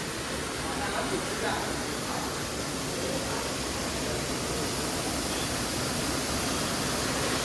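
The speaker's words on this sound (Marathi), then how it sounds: "मंदिराच्या परिसरात जे दोन वॉटरफॉल आहेत त्याचे हे बघा" Two waterfalls beside the Kondeshwar Shiva temple near Badlapur roar in a steady, dense rush of water that fills the air without pause, with a voice speaking over it.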